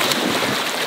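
A person dropping into a swimming pool throws up a loud, close rush of splashing water that fills a single second.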